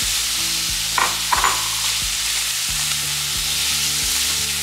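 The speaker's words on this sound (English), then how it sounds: "We've got a good saute." Vegetables sautéing in a pan, with a constant loud sizzle and a few soft stirring scrapes, with no talking.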